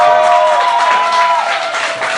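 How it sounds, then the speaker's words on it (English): Canned studio applause swells loudly for a few seconds as a high school football coach from the Glynn Academy Red Terrors is introduced on a local show, with a dense steady patter of clapping and crowd cheering throughout. "We blew the budget on canned applause this week."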